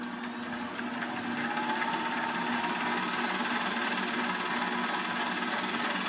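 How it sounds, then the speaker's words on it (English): An electric mixer whirs steadily while whipping a homemade coconut oil pain cream, giving a continuous motor drone with a constant hum and no talk over it. "And I just put it in my mixer. So now I'm going to get that mixed up."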